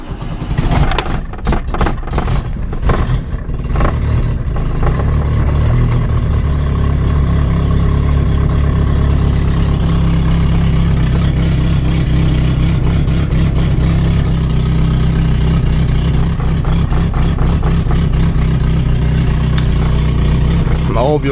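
A 1984 Opel Corsa A TR sedan engine running after a cold start at +3 °C, idling unevenly with a steady low rumble, a few revs and sputters near the start, then a continuous close, loud idle.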